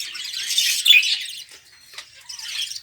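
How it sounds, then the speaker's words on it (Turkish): Albino lovebirds give shrill, bright chirps and squawks close by, a burst of rapid calls followed by a brief pause and another short flurry. "Albino lösevinkler."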